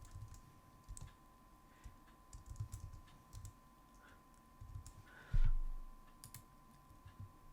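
Quiet computer keyboard typing, with soft scattered keystrokes at close range while a folder name is entered, ending in one louder thump near the end, with no voices.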